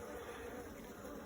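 Honeybees buzz steadily at an open beehive, a dense faint hum from close by with no one talking.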